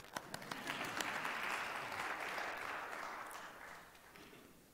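A congregation at an Organ Donor Shabbat service claps after the prayers: a faint, distant round of applause that swells quickly, holds for a few seconds and then tapers off, with no voices.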